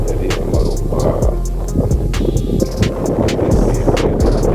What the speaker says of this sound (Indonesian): Kemudian angin juga bertiup sangat kencang.